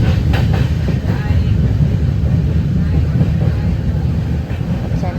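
Heard from inside a moving train, a continuous low rumble and rattle of the carriage rolls on evenly throughout, fairly loud.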